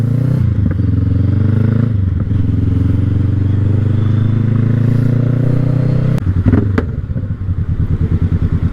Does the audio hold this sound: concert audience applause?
no